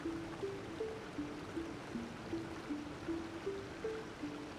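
Steady rushing water from a waterfall in Genshin Impact, a continuous even wash with a faint, repeating low tonal pattern running underneath, with no voices.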